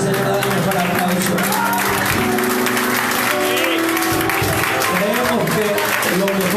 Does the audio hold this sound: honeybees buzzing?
no